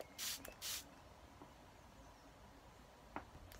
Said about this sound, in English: What I might have to do is just dampen it with my Fix Plus spray.